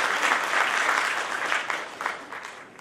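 An audience at an awards ceremony for members of the Ciprian Porumbescu Artistic Ensemble applauds warmly, a dense burst of clapping that gradually thins out toward the end.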